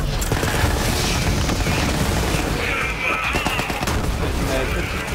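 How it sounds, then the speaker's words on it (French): Sustained machine gun fire in the shooter game Borderlands 3: a dense, continuous rattle of rapid shots mixed with blasts and effects, loud and unbroken throughout. "Une petite mitrailleuse."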